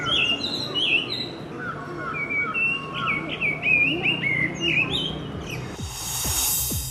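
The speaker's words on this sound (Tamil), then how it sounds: "பழுத்துள்ள நாவல் போன்ற பழங்களை தேடி வரும் பறவைகளின் கீச்சொலி சுற்றுலா பயணிகளை வெகுவாக கவர்ந்துள்ளது." Birds in a Nilgiris shola forest, where flycatchers, thrushes and hornbills gather: many overlapping chirps, whistles and trills over a busy background, close and fairly loud, with a burst of noise near the end.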